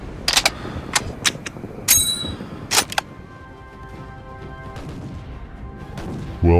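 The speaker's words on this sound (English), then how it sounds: "Oh shit, the double torpedo hit." Torpedo hits exploding on ships in the Roblox naval battle game Naval 1945: several sharp, loud cracking impacts in quick succession, then a low rumbling fade and one more burst at the end.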